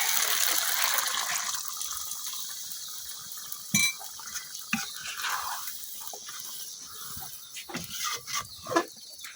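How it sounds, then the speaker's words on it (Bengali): Milk is poured into chicken roast cooking in a pot, a gushing, liquid fill that starts strong and then thins into scattered bubbling and sizzling, with a single clink partway through. "এই দুধটা আমি দিয়ে দেন এখন"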